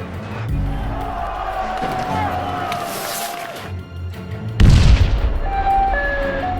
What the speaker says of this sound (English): the Maidan, or Independence Square, has turned into a full-scale war zone